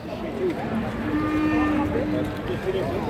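Cattle moo at a cattle market in Jatirogo, several overlapping low calls from nearby and farther off amid a constant crowd murmur and chatter.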